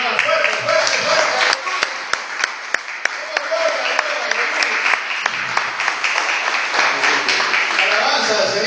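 Church congregation applauds loudly and continuously, a dense wash of many hands with a few sharper individual claps standing out.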